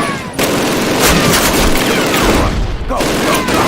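Machine gun fire in the Call of Duty video game, dense sustained bursts of gunshots mixed with explosions and battlefield din, loud and continuous throughout, with shouted voices faintly in the mix.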